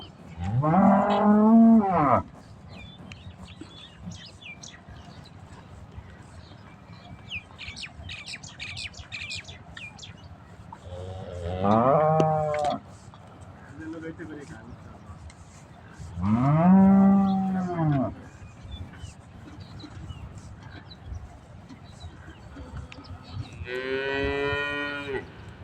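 Cattle on a farm moo several times in long, loud, drawn-out calls spaced a few seconds apart, with birds chirping softly in the background.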